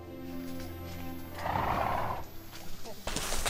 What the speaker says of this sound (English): I went out and got a 15-month-old Shire horse